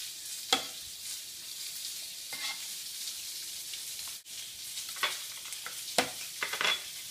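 Food being mashed in a bowl while rosemary is sprinkled in: a soft, steady scraping hiss broken by a few sharp clicks and knocks of the utensil, close and fairly quiet.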